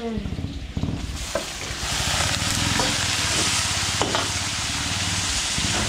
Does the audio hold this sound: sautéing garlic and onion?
yes